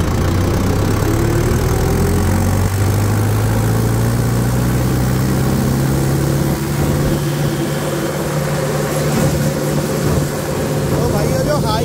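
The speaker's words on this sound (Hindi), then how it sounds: "और आवाज़ भी बहुत ही बढ़िया गोल आवाज़ है ट्रैक्टर की" A Mahindra Yuvo Tech Plus 585 four-wheel-drive tractor runs flat out on a main road at high RPM, a loud, continuous engine drone with a slowly rising tone, steady and close throughout.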